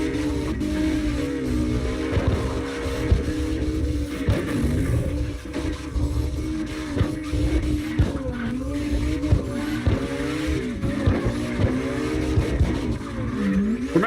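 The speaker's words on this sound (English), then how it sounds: "3 car tandem in the drift." Three cars drifting in tandem in CarX Drift Racing Online, engines howling continuously near the limiter with constant tire screech and repeated rev swells, loud and sustained throughout with no talk.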